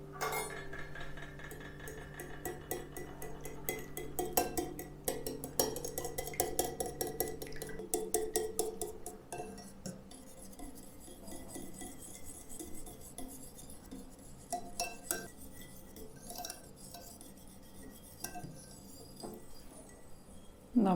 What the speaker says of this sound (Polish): I wszystko razem mieszamy.